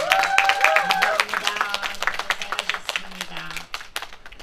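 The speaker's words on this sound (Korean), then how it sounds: "자 뜨겁게 박수 한번 주시기 바랍니다." An audience at an outdoor trot concert on a beach in summer 2018 claps, scattered handclaps at moderate level, with a voice and some tonal sounds over them at the start.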